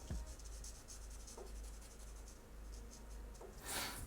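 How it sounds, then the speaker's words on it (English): Pencil shading dark strokes on paper while drawing Godzilla, a steady soft scratchy rubbing that continues close up with brief pauses. "You could shade it in with pencil real dark."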